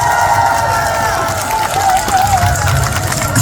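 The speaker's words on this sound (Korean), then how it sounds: "오늘 이 자리에 박서진 잘 왔다 생각하시면 큰 박수 한 번만" A large outdoor crowd claps and cheers at the opening ceremony of the Taean five-day market, a loud, close, continuous wash with some crowd voices mixed in.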